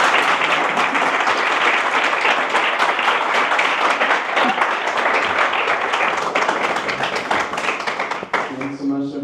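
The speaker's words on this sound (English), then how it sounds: "One more round of applause." Audience at a live AI storytelling event in Mexico City breaking into loud, sustained applause that fades near the end as a voice starts talking.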